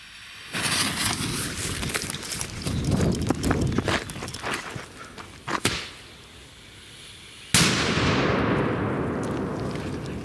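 A sharp, loud bang from a firecracker at about seven seconds, with a crackling rush trailing off afterward, follows a long stretch of rustling and thrashing noise through nettles.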